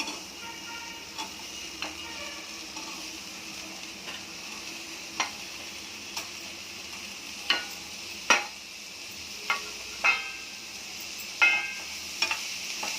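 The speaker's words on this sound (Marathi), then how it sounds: "आता आपण बटाटे आणि फ्लावर टाकून घेऊ" Potatoes and cauliflower sizzle in a hot pan for a dry Indian-style vegetable dish, a soft continuous frying hiss broken by sharp, irregular clicks and scrapes of a spoon stirring against the pan.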